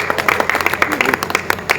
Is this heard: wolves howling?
no